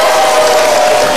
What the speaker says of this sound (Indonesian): Oh, tepuk tangan dulu dong buat yang dari Makassar.